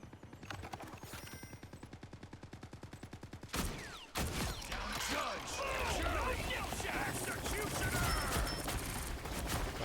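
Rapid bursts of automatic gunfire from a first-person shooter game, a dense rhythmic volley followed by a heavier chaotic clatter of shots and impacts, with a voice talking briefly.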